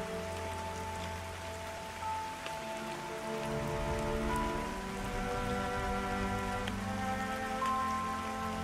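Steady rain falls in the New Hanover forest of Red Dead Redemption 2, a soft, even patter on surfaces that carries on throughout with a faint tonal layer underneath and no voices.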